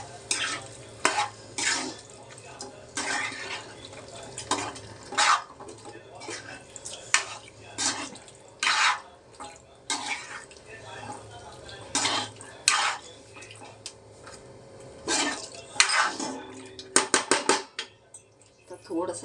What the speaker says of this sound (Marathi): मसाल्यामध्ये छानपैकी मिक्स करून घेऊया.